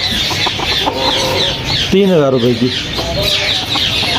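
A pair of bantam chickens clucks close by at a busy bird market, with clucks repeating throughout. A louder squawking call stands out near the middle, and someone talks over the birds.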